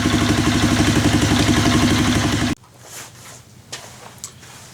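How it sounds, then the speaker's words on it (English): A Suzuki Vinson 500 ATV with a newly installed carburetor and exhaust idles loudly with a steady, rhythmic chug for a few seconds, then cuts off, leaving faint clatter. "It seems to be idling pretty good."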